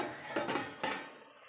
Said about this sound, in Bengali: ঢাকাটা খুলে দেখি জল আছে কি না।